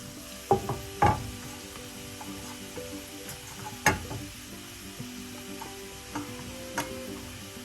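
Snake gourd being stir-fried with onion in a pan for thoran, giving a steady low sizzle with a few sharp clinks of a spoon or spatula against the pan at intervals.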